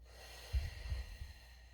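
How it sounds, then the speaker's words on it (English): Soft exhale through the nose during a postpartum core breathing exercise, a few low puffs of air close to the microphone and quiet over a faint background hiss. "Okay, so breathe in, exhale, breathe in,"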